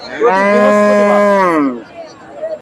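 A Friesian cow at a weekly cattle market in Bogura gives one loud, close, drawn-out moo lasting over a second, then trails off into quiet market background.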